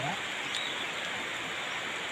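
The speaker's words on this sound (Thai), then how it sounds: "บรรยากาศฝนตก" Steady rain falls in a continuous, close hiss with no breaks and no voices over it.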